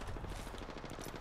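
Rapid gunfire from a rival squad in the video game Predecessor, a dense burst of repeated shots with low thumping energy, fairly quiet and continuous with no talk over it.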